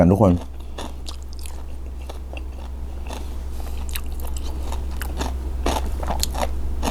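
Crunchy chewing and biting of spicy Thai cow-foot salad, a series of close, crisp crackling bites over a low steady background hum, with a brief voice at the start.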